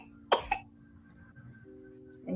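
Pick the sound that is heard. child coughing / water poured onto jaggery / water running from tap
child coughing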